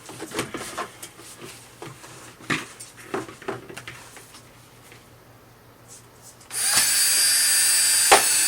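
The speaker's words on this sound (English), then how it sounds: "so now we have drilled holes" A power drill bores holes in the bottom of a plant container outdoors; scattered knocks and handling noises come first, then a loud, steady drill whine for the last two seconds.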